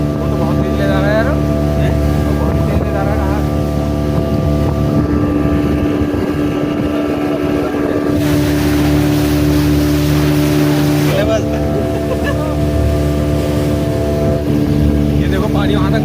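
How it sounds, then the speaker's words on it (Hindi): A speedboat races across Tehri lake, its engine droning loud and steady beneath strong wind rush and water spray, with voices faintly audible over the noise. "टिहरी झील में नौकायन का अनुभव अद्भुत रहा।"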